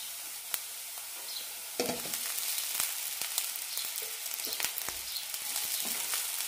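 Chopped onion and crumbled tapioca and broken-wheat puttu sizzle steadily in a hot pan, with sharp spatula scrapes and clicks recurring through the sound.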